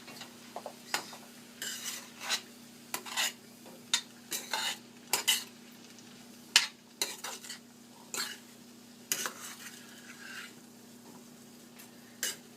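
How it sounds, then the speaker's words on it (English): A spoon stirs Guyanese chickpeas (chana) in a pot, producing irregular metallic scrapes and clinks against the pot, moderately loud and close, over a steady low hum with no talking. "Okay, now let's mix everything up."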